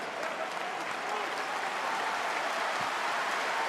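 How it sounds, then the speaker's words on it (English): Fans clap steadily across a Euroleague basketball arena, the Ulker Sports and Event Hall, during a Fenerbahçe versus Žalgiris Kaunas game, a dense broadband wash of applause with a faint crowd murmur underneath. "But encouraging applause from the fans here at the Ulker Sports and Event Hall."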